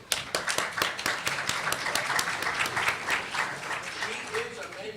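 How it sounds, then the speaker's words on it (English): An audience at a law school program applauds to welcome a new criminal law professor: a burst of dense clapping that gradually thins and fades, with a voice speaking over it. "Give a big round of applause"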